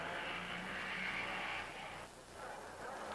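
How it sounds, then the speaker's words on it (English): Race cars at the 1955 Monaco Grand Prix, including a Ferrari and Fangio's car, roar past in a thin, distant-sounding engine whine that rises and dips as they go by, with faint commentary underneath. "Ferrari being passed by Fangio"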